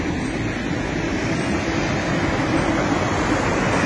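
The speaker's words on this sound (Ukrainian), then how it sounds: "І ось цей невеличкий водоспад, що залишилося від водяного млина." A small waterfall left from an old water mill at a castle estate rushes in a steady, broad, close hiss of falling water with no other sounds.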